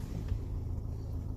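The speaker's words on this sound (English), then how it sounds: "You hear the car going." A car engine idles steadily up close during an aurora storm chase in Pennsylvania, a continuous low rumble with no talk over it.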